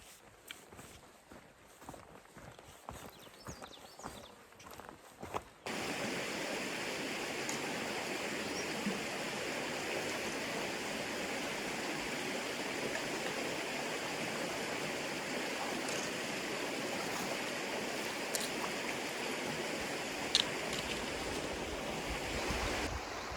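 A small stream rushes steadily at a shallow water crossing in the Gila Wilderness of New Mexico, a broad, constant burble close by that starts abruptly after a few seconds of quieter ambient rustling.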